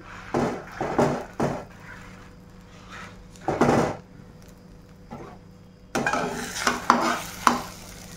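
Cut bread slices dropped into a pan with raw onion and bhujia, giving clattering bursts of handling and stirring over a faint sizzle, with quieter gaps between.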